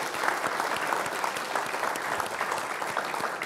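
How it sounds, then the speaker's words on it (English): An audience at a talk on Irish emigrant experiences in America applauds once more for a speaker, giving steady, dense clapping from a crowd that stays even and full for the whole stretch. "one more round of applause for Damian."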